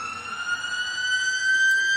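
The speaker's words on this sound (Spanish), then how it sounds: "Por eso suenan las sirenas" Emergency vehicle sirens at a memorial gathering, volunteer fire brigades among them, one steady loud wailing tone held and swelling slightly over two seconds.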